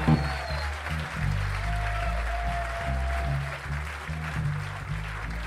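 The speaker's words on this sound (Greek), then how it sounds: "παρακαλώ ένα χειροκρότημα" Crowd applause at a live tribute rock concert in a club, a steady wash of clapping over a low sustained bass and drum rumble from the stage, with faint crowd noise throughout.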